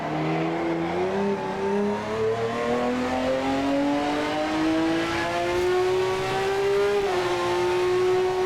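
In a racing video game, a hybrid car's engine holds a loud, close drone whose pitch climbs gradually as it revs, dipping briefly near the end, with no talking.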